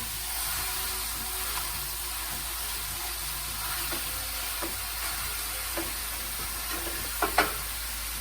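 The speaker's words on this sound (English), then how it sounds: "Listen to that sizzle." Ground beef sizzles steadily in a hot frying pan, a constant crackling hiss with a few soft clicks and scrapes near the end.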